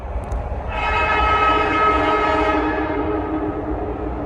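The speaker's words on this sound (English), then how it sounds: "There you heard a solid Westinghouse AA2 horn." A Westinghouse AA2 horn on a Philadelphia Broad Street Subway train sounds one loud, steady, chord-like blast for about two seconds over the rumble of the train in the tunnel.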